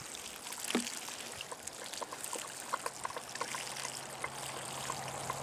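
Compost tea is poured over plants in soil as a watering drench. It makes a quiet, steady trickle and splash with a few soft drips, close by, with no talk.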